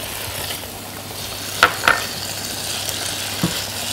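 Potatoes and carrots fry in a pan with a steady, moderate sizzle, punctuated by a couple of sharp utensil clinks against the pan and a soft knock later.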